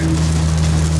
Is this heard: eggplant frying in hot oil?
no